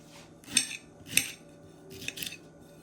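A knife cuts through frozen okra in a few crisp, sharp strokes, with two distinct slices followed by a quicker pair of scraping cuts close to the mic.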